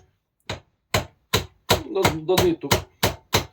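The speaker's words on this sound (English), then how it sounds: "Just lightly, gently tap, tap, tap, tap, tap, and it will go back to its shape." A big hammer tapping a dented part back into shape, about nine light, sharp knocks at a steady pace with short gaps, someone speaking briefly in the middle.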